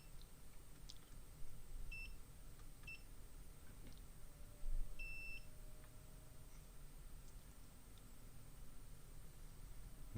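A multimeter emits short, faint electronic beeps, a few spaced apart with one longer tone, while circuit connections on a PS4 board are probed during a repair, over a low steady background hum.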